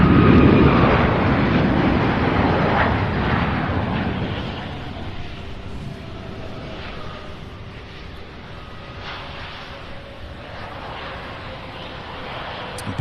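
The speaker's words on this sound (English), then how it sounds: "Can definitely tell there's some crosswind, a little bit of a bouncy landing" An airliner lands in a crosswind at Louisville International Airport, a loud roar and rush of wind that fades over several seconds into a fainter steady drone, with wind buffeting the microphone.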